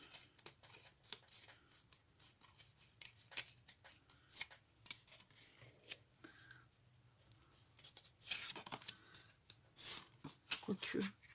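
Scissors snip through a paper card in a quiet room, with a series of short, faint crisp cuts and rustles spread unevenly across the clip and a busier cluster near the end.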